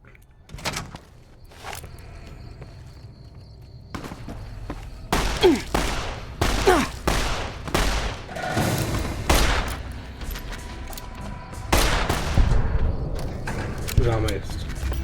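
Gunfire in a modded Fallout: New Vegas wasteland: loud, irregular bursts of shots and booms come in clusters after a quiet start, mixed with footsteps and occasional talk.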